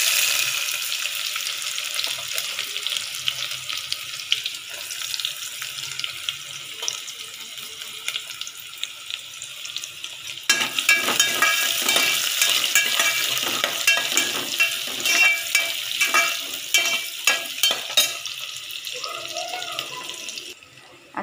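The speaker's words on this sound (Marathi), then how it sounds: "थोडासा लालसर झाल्यानंतर आता आपण ह्यामध्ये कांदा टाकूया." Onion sizzling in hot oil with partly crushed garlic for mixed vegetable and dal khichadi, a steady close frying hiss with stirring scrapes that grows louder midway, and no talking.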